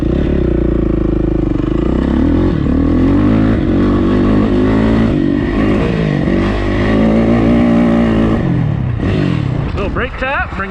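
A dirt bike engine revs hard and stays high in third gear while climbing toward a jump on a dirt track. The engine is loud and close, its pitch wavering and surging, with a voice talking over it.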